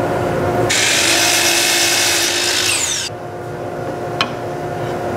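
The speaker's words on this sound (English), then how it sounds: "we're gonna cut that off on a 45-degree angle" Power saw cutting a wooden board at a 45-degree angle for a folding table leg, a loud whining cut lasting a couple of seconds before the blade spins down, followed by a brief knock.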